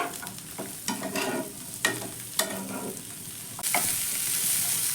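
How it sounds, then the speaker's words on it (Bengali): Sweet corn and boiled peanuts are stir-fried in a pan, giving a steady sizzle broken by several sharp scraping strokes of the spatula. The sizzle swells louder toward the end, with no voices. "আমি এক থেকে দু মিনিট মতো একটু নেড়েচেড়ে ভেজে নিচ্ছি"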